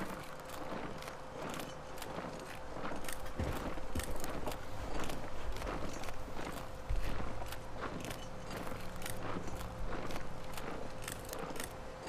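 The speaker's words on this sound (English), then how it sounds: "Seem to have two sets of footsteps out of sync with each other." Two sets of footsteps out of sync with each other in The Long Dark, a steady stream of close crunching steps running through the whole stretch over a low ambient hum, with one heavier clunk midway.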